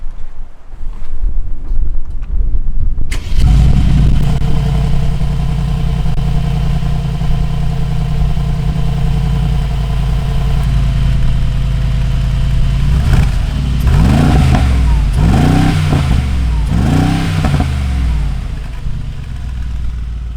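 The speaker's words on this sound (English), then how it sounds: "So I want to start it up for you guys so you can hear the exhaust." A Mercedes-AMG G63 fires up and its exhaust roars out of the side pipes, a loud deep idle following the start, then several sharp revs rising and falling near the end.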